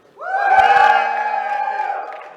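A live panel audience at PAX East 2017 erupts in loud, sustained cheering and whooping for Power Stone during a noise vote, rising quickly and holding before tapering slightly.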